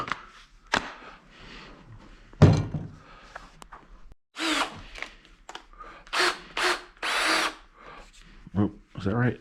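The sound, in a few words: power drill removing screws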